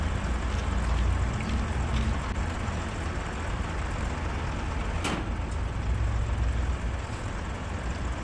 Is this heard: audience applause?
no